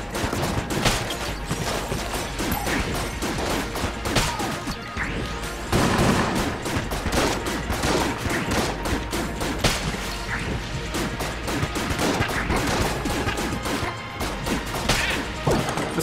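Weapon fire in Enter the Gungeon crackles almost nonstop, mixed with loud smashing hits and whooshes in a dense, busy clatter that barely lets up, with no one talking over it.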